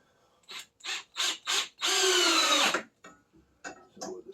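A power drill drives screws while a Heat Storm wifi shop heater is mounted: four short bursts of whirring, then one longer sustained run, followed by a few brief taps of the trigger, close and clear.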